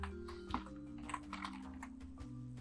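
Computer keyboard typed on while entering Java code, a quick irregular run of key taps over a low steady hum, close and fairly quiet with no talk.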